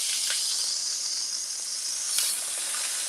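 Korean beef sizzles hard in a hot pan, a loud, continuous frying hiss with brief crackling spikes, close up and with no talking.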